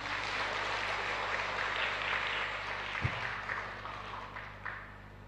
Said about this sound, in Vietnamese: Vỗ tay cái đi.